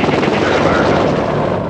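A Boeing AH-64 Apache attack helicopter in flight gives a loud, steady, close rotor and engine roar that stays even throughout.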